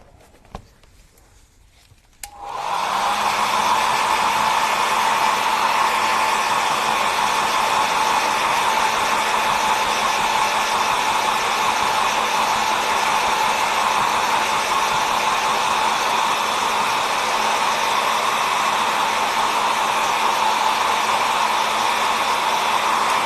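A hair dryer switches on after a short quiet start and runs at a steady, loud, continuous whir, drying a recycled fairy craft project held on a lap.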